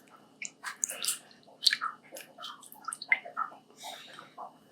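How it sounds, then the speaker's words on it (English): Homemade natural face cream being stirred in a container, giving close, soft, wet squishing and sticky clicking sounds in irregular bursts, with no talking. "Give it a good stir here."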